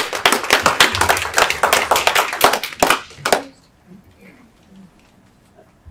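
A crowd at a panel discussion on burn injuries applauds for about three seconds, dense and loud, then the clapping quickly dies away to a quiet room with faint murmurs.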